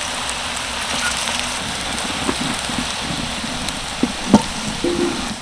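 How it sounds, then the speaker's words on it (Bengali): Green banana fritters fry in oil at medium heat, giving a soft, even crackling hiss like light rain, with a few sharp clicks and taps near the end. "ফুলুরিগুলোকে বেশ উল্টে পাল্টে ভালো করে ভেজে নিয়েছি"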